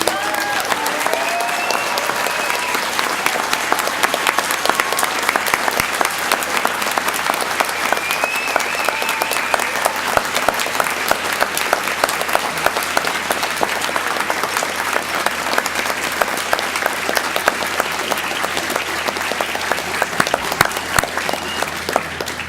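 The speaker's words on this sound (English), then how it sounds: "let us give them a rousing round of applause" Steady, loud, sustained applause from a university graduation crowd at a spring 2018 ceremony, dense clapping continuing unbroken for over twenty seconds.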